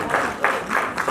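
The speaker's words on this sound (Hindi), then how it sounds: "Round of applause for virtual university." Audience at an honorary PhD convocation of Bharath Virtual University applauds in a steady wash of clapping with a few louder swells, fairly close and unbroken, with no talk over it.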